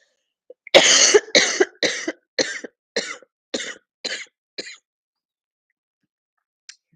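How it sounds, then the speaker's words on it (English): A person has a coughing fit, about eight harsh coughs in quick succession that weaken and shorten as they go, close and loud in an otherwise quiet room, followed by a faint final throat sound. "Here comes that coughing fit that I was hoping wouldn't happen."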